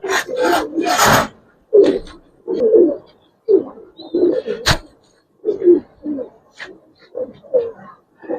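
A female Giribaz pigeon in a loft gives repeated soft, throaty coos in short bursts, close by, with a few scraping and rustling noises between them.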